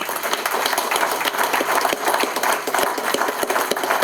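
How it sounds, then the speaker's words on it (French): Warm applause from an audience at a 2025 New Year's greetings ceremony in Villac, many hands clapping in a steady, dense patter that continues throughout at moderate loudness. "on va les applaudir pour les encourager"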